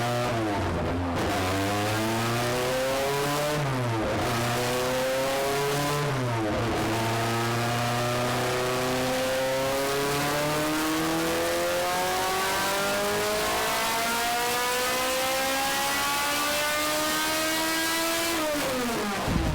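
A KenT Racing race car at the Haltech World Cup Finals revs loudly through repeated rising pulls, each engine note climbing steadily to a high pitch near 9600 RPM before dropping and climbing again, continuous and close with no talk.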